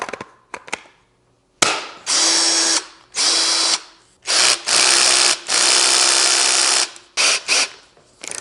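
A Ryobi 18-volt ONE+ lithium-ion cordless 1/2-inch drill/driver whirs up loud and close in repeated bursts, a few quick trigger clicks first, then several sustained high-pitched runs separated by short pauses and brief blips.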